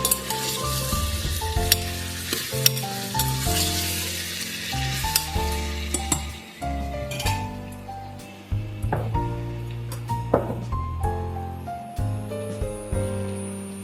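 Farali khichdi of sabudana, bottle gourd, potato and roasted peanuts frying in a pan, sizzling steadily while a spoon scrapes and clatters through repeated stirring strokes, close and fairly loud.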